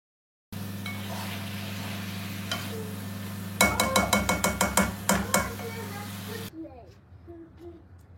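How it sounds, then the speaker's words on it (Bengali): Flat beans stirred into a spice masala in a pan, sizzling steadily throughout, with a burst of quick clattering scrapes of the spoon against the pan partway through before the sizzle fades, a voice faintly in the background. "মশলার লগে এখন আমি উড়িরে বালা করে মিক্স করে লইলাম।"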